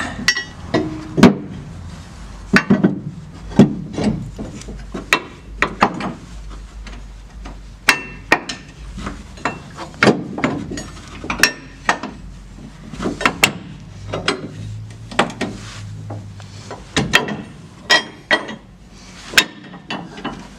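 A metal plate is fitted onto a Trail Boss, working around a protruding bolt. Irregular sharp metallic knocks and clinks sound up close, with brief rattles between them and no talking.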